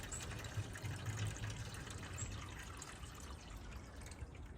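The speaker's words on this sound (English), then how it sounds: "my moisture container here is completely dry, so I'm gonna refill that" Water trickles and drips quietly into a dry moisture container inside a smoker while a brisket cooks, a soft, brief pour against low background noise.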